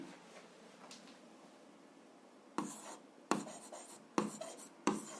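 Pen or marker writing out a seventh-grade algebra solution, several short scratchy bursts of strokes on paper or board, close and fairly quiet, with no talk.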